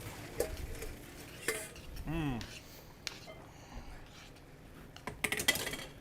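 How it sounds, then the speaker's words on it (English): A spoon stirs pasta in a metal pot on a stove while cooking beef stroganoff, with scraping clinks and scattered knocks against the pot under a voice talking. "Can I just take a stir spoon it, and stir it?"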